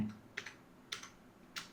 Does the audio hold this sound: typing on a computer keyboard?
yes